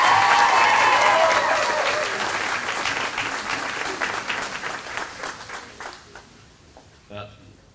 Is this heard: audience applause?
yes